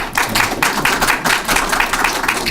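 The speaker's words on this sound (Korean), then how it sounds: "이런 큰 박수 부탁드리겠습니다." Conference audience at a Korean fire and fire-protection academic meeting gives a sustained round of applause, dense and even clapping filling the whole stretch at moderate loudness.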